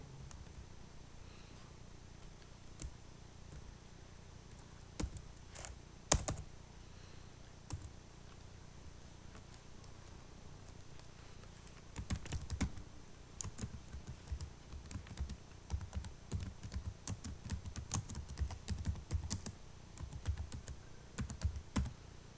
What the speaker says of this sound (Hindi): अब हम अपने सिस्टम में उस टेक्स्ट को टाइप करेंगे जो हम परिवर्तन करना चाहते हैं।